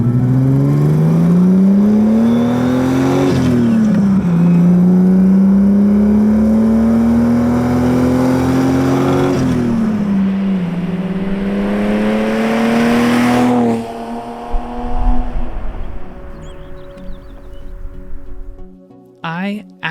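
A classic Datsun 280Z (Nissan Z) driven fast on a canyon road, heard from inside: a loud engine drone climbs and drops through gear changes, then falls away into a lower rumble near the end.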